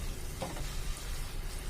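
Fried prawns drop into a pan of boiling pickle gravy, giving a dense, steady sizzle and bubbling hiss at close range, with a brief soft splash near the start.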